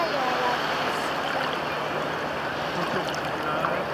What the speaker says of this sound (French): Là, il y a des vagues,